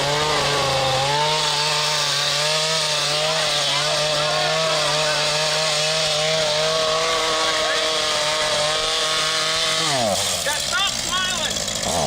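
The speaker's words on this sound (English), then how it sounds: "Not pissing people off with the chainsaw being on the whole time." A chainsaw runs loud and steady at close range for the whole stretch, its engine holding a constant whine before dropping in pitch near the end, at a haunted attraction.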